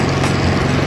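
A Porsche 914 engine drones loudly and steadily while the car drives on back roads, a close, buzzy, unbroken engine note.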